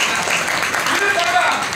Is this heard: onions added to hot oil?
no